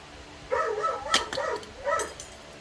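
A dog gives a few short, whiny yips and barks nearby, three quick voiced bursts in a couple of seconds, moderately loud against a quiet background.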